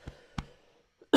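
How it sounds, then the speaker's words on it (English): A rough human cough: two short harsh bursts a moment apart, then a brief quiet catch and a louder, rasping final burst, close and alone. "oh boy, that was a rough cough."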